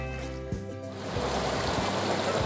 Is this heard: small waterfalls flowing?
yes